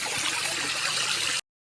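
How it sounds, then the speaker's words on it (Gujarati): A mountain stream pouring down from the hills in rainy weather, a close, dense and steady rush of flowing water that fills the short stretch without any voices. "અને અહીં પર્વતમાંથી આ ઝરણું આવે છે."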